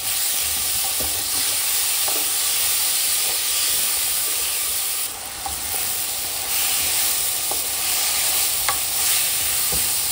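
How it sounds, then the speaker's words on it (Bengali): Soaked lentils with ginger paste being stirred and fried for khichdi, giving a loud, constant hiss and sizzle with occasional soft scrapes of the spoon throughout, and no talking. "ডালগুলো একটু ভালো করে ভেজে নিচ্ছে, কয়েক মিনিটের জন্য ভেজে নিচ্ছে।"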